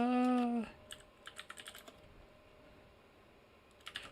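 A short electronic tone sounds first, followed by faint, scattered keystrokes on a computer keyboard and a few more clicks near the end, quiet and close.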